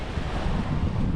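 Wind and sea waves on the beach at Šventoji, a loud continuous low roar of surf with buffeting wind across the microphone.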